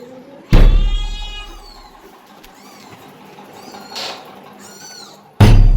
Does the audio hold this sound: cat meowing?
yes